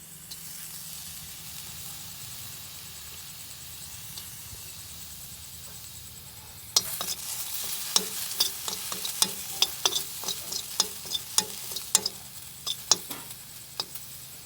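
Garlic dropped into a hot kadai starts a crackling sizzle about halfway through, and scattered pops and spits go on over a steady frying hiss. Before that there is only a quiet, low background hum.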